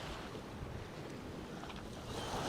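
Wind gusting across the beach at Pevensey Bay, a steady broadband rush with low rumbling buffets against the microphone and possible surf underneath, no voices.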